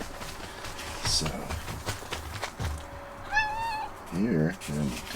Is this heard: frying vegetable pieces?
no